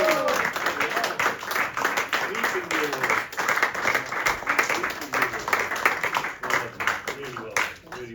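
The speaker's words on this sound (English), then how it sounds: "Big round of applause to Omar." Crowd applause at a cricket club's annual awards ceremony, sustained clapping from a room of people with voices and cheers audible over it, loud and steady for several seconds.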